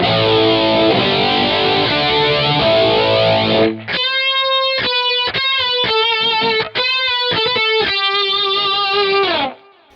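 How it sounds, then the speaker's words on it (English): Electric guitar through an MXR Rockman X100 preamp pedal on its distortion setting, heavily distorted: first a thick sustained chord wash, then sharp repeated chord stabs with abrupt stops, loud and upfront with no voices. "Now if we go to the last setting, that is the distortion setting."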